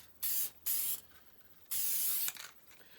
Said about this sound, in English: That's the end for me on spraying the lacquer.